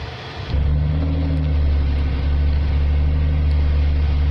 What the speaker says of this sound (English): I just kept turning the ignition, kind of tapping on the gas a little bit, and now it's running